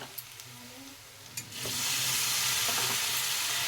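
Chopped tomato tipped into a pan of frying ginger and garlic, with a quiet background giving way to a loud, steady sizzle and hiss that continues to the end.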